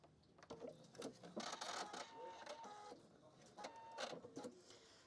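A sewing machine stitches a seam 1 cm from the edge of a fabric handbag organizer, in short, quiet whirring runs with brief pauses between them.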